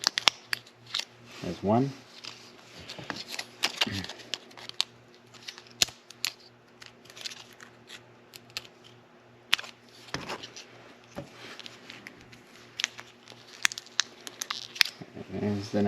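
Scissors cutting open plastic packaging for replacement batteries for a 2015-2017 Ford F150 key fob: scattered sharp snips and crinkling of plastic, close by, mixed with someone talking.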